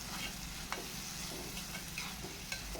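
Crushed tomatoes sautéing in a pan for a village-style fish curry, a soft close sizzle with a few light stirring scrapes, no voices.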